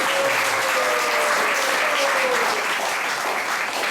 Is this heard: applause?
yes